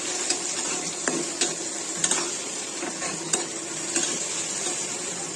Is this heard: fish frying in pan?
yes